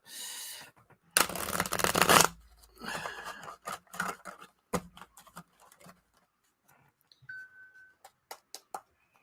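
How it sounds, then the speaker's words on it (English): Tarot cards shuffled by hand up close: a dense burst of riffling, then a string of separate papery slaps and flicks tapering into scattered taps over a quiet background. "I got to shuffle here."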